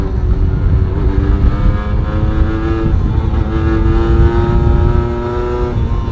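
Yamaha TDR 125 motorcycle ridden through curves, its engine droning loud and close with steady rising and falling pitch, wind rush underneath.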